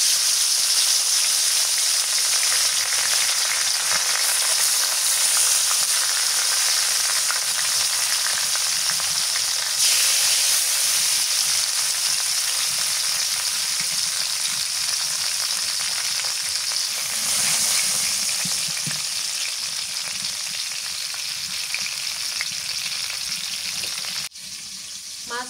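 Kalibaus fish fries in oil over a clay stove on a rainy day, giving a loud, steady, crackling sizzle that runs unbroken and fades slightly near the end.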